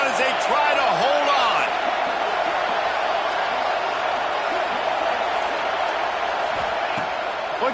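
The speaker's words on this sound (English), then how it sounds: "This crowd even louder now on second down as they try to hold" Loud stadium crowd roar in a college football video game with Southern Cal playing, a dense, steady wall of cheering and noise held throughout, with faint voice-like calls rising now and then.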